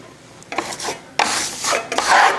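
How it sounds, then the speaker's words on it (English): A trowel skim-coats plaster onto a wall for a faux Tuscan wainscot finish, making close, raspy scraping strokes in several sweeps of rising and falling intensity. "I'm skim coating, so I'm revealing some of this lower plaster so I don't have to go back into sand and make it look distressed"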